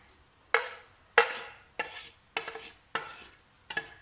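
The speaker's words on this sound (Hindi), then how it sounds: "ये सब चीज़ों को मिक्स कर लेंगे" Spices and soy sauce being mixed into ingredients in a pan, heard as six sharp, evenly spaced scraping stirs, each fading quickly, close and fairly loud over a quiet background.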